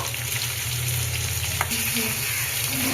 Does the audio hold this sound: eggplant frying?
yes